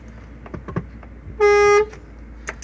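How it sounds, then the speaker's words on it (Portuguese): A single loud, steady blast of a truck horn lasting under half a second, preceded and followed by light clicks and mechanical noises. "Dá uma buzinada, questão de segurança."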